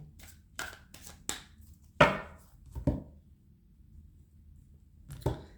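A tarot card deck being cut by hand, giving a few short, soft card slaps and flicks with quiet gaps between them, close and fairly faint.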